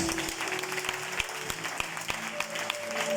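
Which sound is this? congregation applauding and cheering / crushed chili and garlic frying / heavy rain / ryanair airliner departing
congregation applauding and cheering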